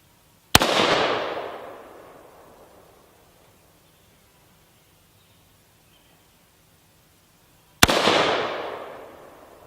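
Two single assault rifle shots fired outdoors by a woman in a bikini, each a loud crack followed by a long rolling echo that fades over about two seconds, with silence between.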